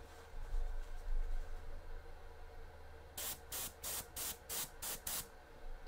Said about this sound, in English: I'm trying to hit the bottom of his back and put a light mist of black all the way up his back